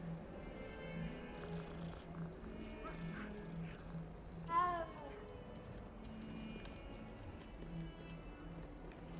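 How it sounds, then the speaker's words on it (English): Cats meow in the video game Hogwarts Legacy, a single short, fairly faint mew partway through over a low steady game ambience, with soft background music and no talk. "Oh, you can pet the kitties."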